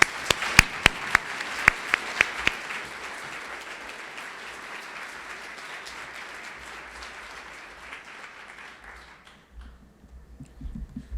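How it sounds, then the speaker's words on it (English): An audience at a HUD event applauds a speaker. A few sharp, close claps open the applause, which then settles into steady, even clapping for several seconds before fading out. "please give a warm hand of applause to Nicholas Hagan"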